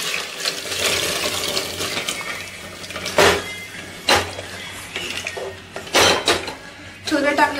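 Cooked chickpeas are stirred in a metal pan, with scraping and clanking of a spoon against the pan in irregular bursts, while a person talks throughout.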